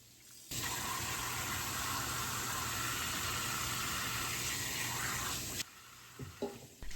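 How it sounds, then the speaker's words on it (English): Cold water gushes steadily from a tap over beef bones being washed, a loud, even rush that starts abruptly, runs for about five seconds, then cuts off, followed by a few soft clinks and handling sounds. "we're just going to wash off the bones in cold water"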